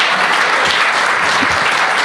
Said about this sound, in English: Thank you for that normal amount of applause